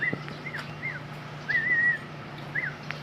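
Pigeons or doves calling outdoors, several short warbling coos and a longer drawn-out call spaced across a few seconds, fairly faint over a steady low hum.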